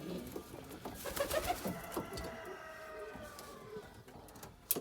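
Several Ardiyoza post pigeons coo in overlapping throaty phrases nearby in a cage, a continuous murmuring chorus with faint rustling and a few clicks.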